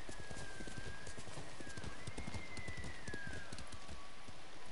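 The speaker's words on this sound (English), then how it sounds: "Yeah, horse." A horse trots in the Ghost of Tsushima game, with rapid, steady hoof clip-clops over a constant wash of rain and a thin whistling tone that rises and falls in the background.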